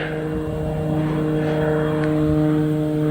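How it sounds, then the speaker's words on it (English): A propeller aeroplane about to land drones steadily over the African bush during a leopard sighting on safari. The engine gives a constant, fairly loud hum with no pauses. "There's just an aeroplane that's about to land. You might be able to hear it."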